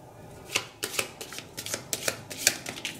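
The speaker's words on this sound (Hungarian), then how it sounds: "Keverem, kavarom." A deck of tarot cards is shuffled up close in a quiet room, with a steady run of soft riffling snaps and taps and no talking.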